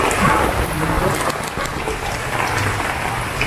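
Rain falling outdoors at a tilapia pond, a dense steady wash of rainfall close and loud with no pauses.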